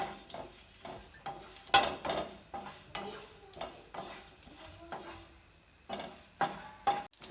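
Whole spices such as cloves and cinnamon being roasted and stirred in a pan, giving repeated scraping and rattling strokes with faint sizzling, close by and fairly quiet, with no talk.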